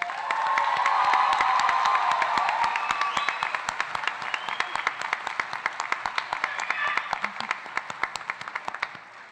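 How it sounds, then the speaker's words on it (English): Crowd applause at an eighth grade middle school promotion ceremony, with cheering and whoops over dense clapping that thins out into sparse, rhythmic individual claps toward the end. "Please join me in honoring these students with one more round of applause."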